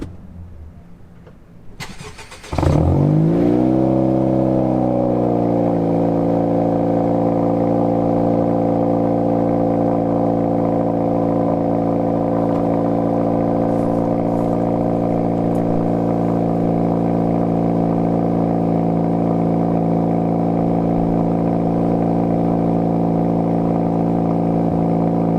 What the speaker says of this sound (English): give you guys a cold start right now of the exhaust on the Civic SI with the muffler delete